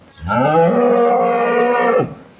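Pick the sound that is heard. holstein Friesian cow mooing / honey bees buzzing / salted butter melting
holstein Friesian cow mooing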